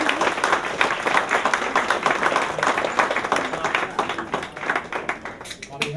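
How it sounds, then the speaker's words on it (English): Graduates' families and supporters receive a sustained round of applause at an Essex County College advisory board ceremony, dense steady clapping filling the room throughout with voices faintly mixed in. "Let's give them a round of applause"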